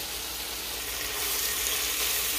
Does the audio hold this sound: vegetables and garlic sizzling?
yes